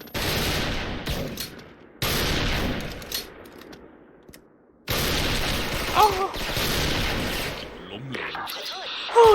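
Bursts of rapid video-game gunfire in dense volleys, separated by short pauses, with a voice briefly audible near the end.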